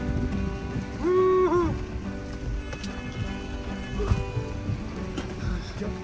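Steady rain falls outside, a constant wash of hiss with scattered drops, while a horn-like tonal sound briefly rises over it near the start.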